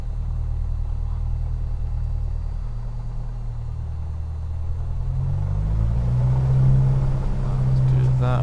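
A Trinidad TB-21GT's 250 hp piston aircraft engine in Microsoft Flight Simulator 2020 drones as a steady low rumble that builds and rises in pitch toward the end, with a voice talking over it.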